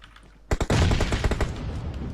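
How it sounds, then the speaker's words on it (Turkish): Grenade blast and loud bursts of gunfire in PUBG Mobile, a quiet lull suddenly broken by a sharp explosion and rapid cracking shots that keep rattling on, close and dense. "Bomba attı bir tane oraya."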